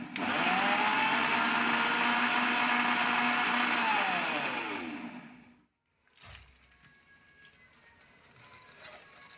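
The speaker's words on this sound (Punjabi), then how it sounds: "ਹੁਣ ਆਪਾਂ ਇਹਦੇ ਗੇੜੇ ਲਗਾ ਲੈਣੇ ਆ ਮਿਕਸੀ ਦੇ ਵਿੱਚ" An electric mixer grinder blends coffee in a jug with a slightly broken lid covered by a plastic bag. Its loud, steady whine runs for over five seconds, then winds down and stops, leaving quiet rustling.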